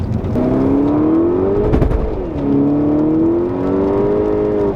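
A lowered, stock VW Mk6 accelerating hard, its engine note climbing steadily in pitch, dipping briefly at a gear change, then rising again, loud and close throughout.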